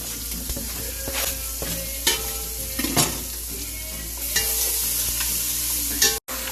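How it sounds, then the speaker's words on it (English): Onion, ginger and garlic sizzle in a cast iron pan on low heat, a continuous close frying hiss broken by occasional stirring scrapes and clinks, no talking. "I'm going to go with my aromatics, my onion, my ginger, and my garlic all at once."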